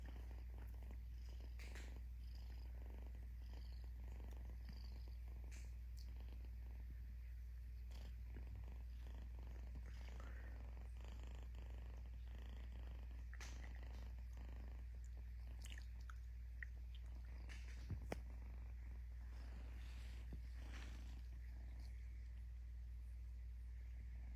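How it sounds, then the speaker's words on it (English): A cat purrs steadily and softly up close, a low continuous rumble over quiet background noise. "She's purring."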